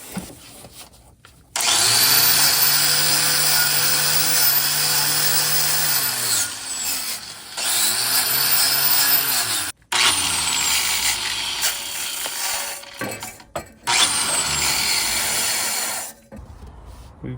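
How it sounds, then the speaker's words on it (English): Wire brush on an angle grinder cleaning a broken steel exhaust pipe, a loud harsh whirring scrape in long sustained passes with short pauses, the motor winding down between them. "use my wire brush on the grinder, clean all this up"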